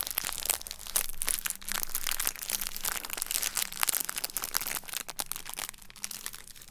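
Aluminium foil wrapper being crinkled and crushed close up, a continuous dense crackling with sharp bursts, no speech.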